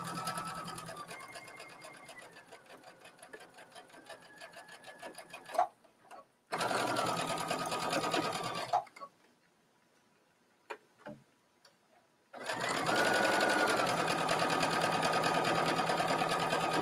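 A sewing machine stitches binding along a folded edge of a mesh bathing suit coverup, running in three loud, steady bursts with short pauses and light ticking between them.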